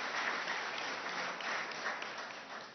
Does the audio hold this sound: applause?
yes